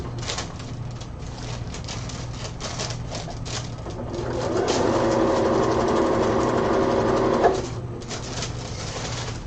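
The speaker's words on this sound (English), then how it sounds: "Sorry for all that crinkly. This is part of sewing pleather." Sewing machine stitching crinkly pleather for a cosplay costume, a steady mechanical whir that swells louder in the middle with a sharp tick near the end, set over a low constant hum.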